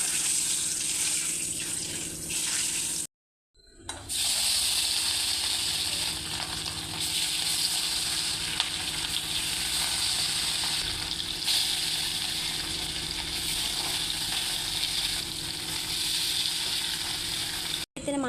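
Oil heating in a hot wok in a home kitchen, giving a steady, fairly loud broadband sizzle and hiss that carries on continuously with a brief dropout near the start.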